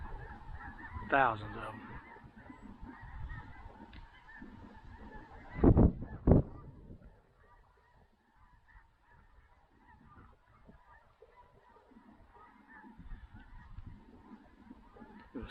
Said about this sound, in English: Snow geese and specks on the lake, but it looks like all those are snows.